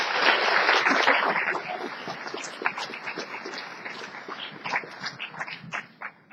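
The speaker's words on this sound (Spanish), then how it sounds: "Un aplauso, por favor." A university philosophy event audience applauds, starting loud and dense, then thinning into scattered claps that fade over several seconds.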